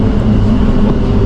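A train passes nearby with a loud, steady low rumble over a short stretch.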